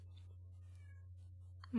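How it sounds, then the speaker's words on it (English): A cat meows softly and drawn-out against a low steady hum, then gives a sharper, louder call right at the end. "cat is meowing."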